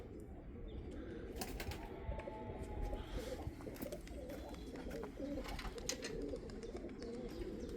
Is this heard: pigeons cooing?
yes